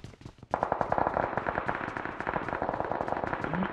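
Rapid automatic gunfire from the mobile shooter game BGMI rattles loudly and continuously after a brief burst of shots.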